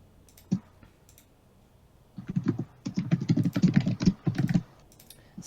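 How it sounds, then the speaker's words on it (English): Keys clatter on a computer keyboard in quick, uneven bursts, a single click first, then a sustained flurry of close, crisp keystrokes that stop and start, heard alone without talk. "He's typing a secret message to you"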